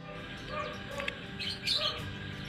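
Turquoise parblue lovebird chicks give faint, scattered high chirps and peeps over a quiet room background, with a brighter cluster of calls near the end.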